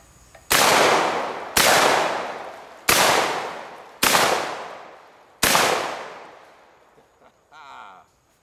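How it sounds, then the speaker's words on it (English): Five loud Benelli Cordoba shotgun blasts fired at clay pigeons with 2 3/4 inch NSI 7.5 shot loads, spaced about a second apart, each a sharp crack with a long decaying echo, then a brief faint rustle. "Again, I'm shooting the Benelli Cordoba"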